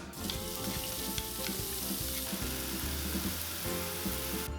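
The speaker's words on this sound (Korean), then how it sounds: "프라이팬에 식용유 2테이블스푼을 넣고 고기와 마늘을 볶아주세요" Meat and garlic stir-frying in two tablespoons of cooking oil in a frying pan for a shiitake mushroom rice bowl, with a loud, steady sizzle and repeated low scraping knocks of stirring throughout, no voices.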